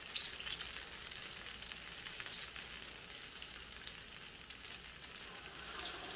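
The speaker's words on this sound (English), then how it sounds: "I'm going to lower the heat because it looks like it's frying" Akara sizzles and crackles in hot oil in a frying pan, a steady bright hiss with scattered pops, close and fairly quiet, with no voices.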